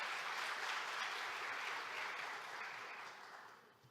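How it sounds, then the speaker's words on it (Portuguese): Audience applause at a Brazilian external-control conference session, steady close clapping from a crowd that fades gradually toward the end, with no talking over it. "Eu peço uma salva de palmas à equipe."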